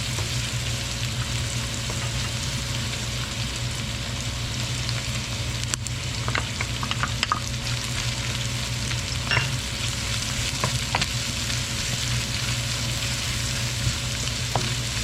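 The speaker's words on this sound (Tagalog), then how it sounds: "Ayan na po at naluluto na itong ating bawang at sibuyas" Garlic and onion sauté steadily in a hot pan for a home-style pork and tomato dish, a continuous close sizzle with occasional faint scrapes and clinks of a utensil, no voices.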